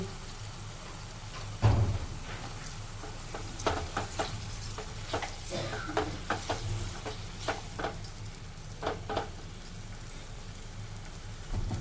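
Green peas and carrot pieces sautéing in oil for a cornmeal upma, a soft background sizzle broken by scattered stirring clinks and scrapes of a spoon against the pan.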